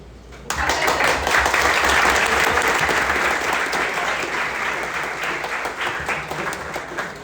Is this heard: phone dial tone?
no